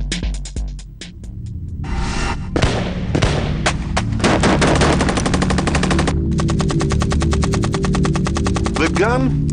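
Machine gun fire in long, rapid bursts of sharp, loud reports, with other gunfire and rumbling blasts mixed in and a brief pause between volleys.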